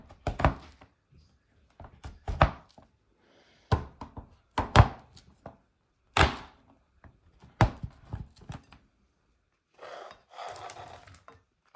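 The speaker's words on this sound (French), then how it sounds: "je vais couper ma plaque de chocolat en morceaux" A chocolate bar being chopped into pieces with a knife on a board, a series of sharp, close thunks in irregular bursts with brief pauses between strokes, heard alone.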